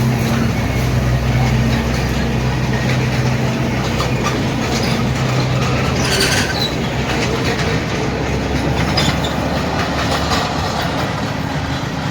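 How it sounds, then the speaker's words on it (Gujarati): A small ride-on train in a botanical garden in Surat rolls steadily along its track with a continuous rumble and faint rhythmic clatter, a low steady hum underneath, fairly close throughout. "આ પૂરા ગાર્ડનની અંદર એક નાની એવી રેલ છે"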